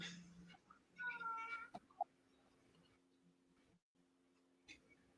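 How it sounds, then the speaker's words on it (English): A cat meows a few times, fairly faint and a little distant, over a low steady hum with a brief thump. "these cats are being a big problem here, guys"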